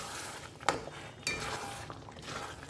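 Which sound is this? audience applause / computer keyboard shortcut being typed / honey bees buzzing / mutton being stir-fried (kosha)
mutton being stir-fried (kosha)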